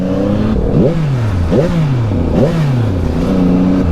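A Yamaha MT-09 2023 three-cylinder motorcycle engine revs repeatedly, three quick rising blips over a loud steady rumble, heard close up while riding.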